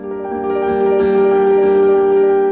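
A sustained piano chord rings out, struck and held, with a slightly somber, minor quality as it slowly fades.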